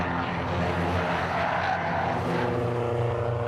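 Ford Focus race cars in a Focus Cup championship round at Croft Circuit, their engines snarling together in a constant loud drone that shifts in pitch as they pass, with some tyre noise.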